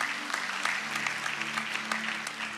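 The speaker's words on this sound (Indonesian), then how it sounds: "Yang setuju sekali lagi kita beri tepuk tangan buat Tuhan" A church congregation applauds during a sermon with steady, dense clapping, a faint low tone sustained beneath it.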